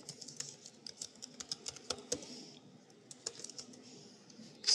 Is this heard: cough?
no